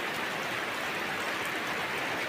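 Steady autumn rain falls in Assam, a dense, even hiss of drops on surfaces that continues unbroken and fairly loud, with no voices.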